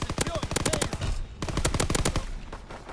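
Automatic gunfire in Call of Duty, two rapid bursts of loud close shots in quick succession with a short pause between, alone without talk.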